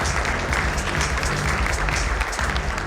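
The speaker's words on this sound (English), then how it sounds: "Let's have a big round of applause for everybody present here." Audience applause at a 10-year celebration event, a dense, steady wash of clapping from a large crowd, loud and continuous throughout.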